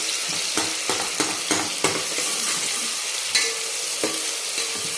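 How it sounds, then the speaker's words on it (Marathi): Chopped onion fries in hot oil in a pan until golden, a dense continuous sizzle close by, broken by occasional sharp spatula scrapes and taps. "कांदा चांगला आपल्याला सोनेरी कलरवर परतून घ्यायचा आहे"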